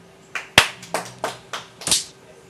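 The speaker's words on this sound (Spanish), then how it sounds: "un aplauso para @icro por estar acá" A handful of separate hand claps in an irregular rhythm, close and fairly crisp, from a small audience at the close of a talk on iPhone and Android cross-platform development, with no voices.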